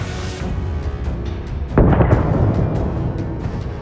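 Ukrainian artillery shelling a Russian armored convoy of BMPs: a steady low rumble of distant fire, then a sharp heavy blast about halfway through followed by a sustained roaring boom that trails off.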